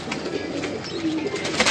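An Imam Deen pigeon coos in soft, repeated low calls close by, against a background of other birds and faint murmuring.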